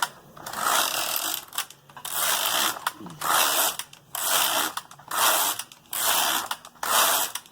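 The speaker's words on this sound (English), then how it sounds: "Rehang my comb, knit 10 rows," Knitting machine carriage drawn back and forth to knit rows of mohair yarn, heard as repeated mechanical ratcheting passes of roughly a second each with short pauses between, close and fairly loud, no talk.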